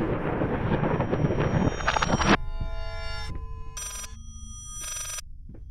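Telephone ringing in the horror video game Layers of Fear: several shrill, high electronic ring bursts cut in over a dark rumbling ambience, loud and close, with gaps between the rings.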